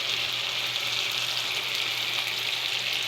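Onion slices dropped into hot oil in a frying pan while cooking tibs, giving a steady, close hiss of sizzling that runs unbroken throughout with a faint low hum beneath.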